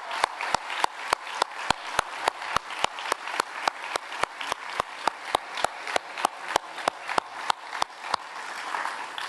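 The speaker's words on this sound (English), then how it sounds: "Can we give a round of applause to our SAM ambassador team?" Audience at a downtown annual meeting claps in sharp, evenly spaced bursts for a SAM ambassador team, a loud steady rhythm of hand claps that runs throughout, then stops abruptly near the end.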